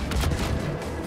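A grenade blast in Star Wars Battlefront 2, one loud, dense burst of broadband noise that fills the whole short moment, close and booming.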